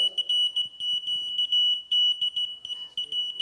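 Morse code tones keyed by hand on a small CW key, a steady high beep broken into short and long pulses in an uneven rhythm, fairly close and clear, with faint clicks and handling noise underneath.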